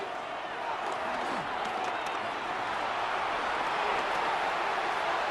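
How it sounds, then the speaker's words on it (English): Stadium crowd noise in the Madden 26 football video game, a dense, steady roar of many voices growing rowdy, continuous throughout with a voice talking over it. "His crowd's starting to get a little rowdy up in here."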